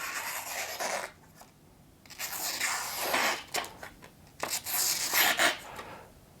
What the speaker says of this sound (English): let's see if we can get a cut test on this.